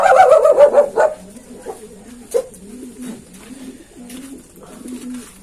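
Racing pigeons of a Taiwan Gold line in a breeder's loft, giving several low throaty coos at a steady rhythm, close by, after a brief burst of brighter bird noise at the start.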